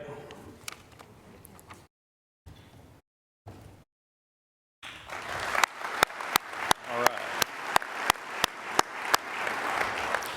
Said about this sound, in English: Let's give one more round of applause for all of our dedicated Directus Emeriti.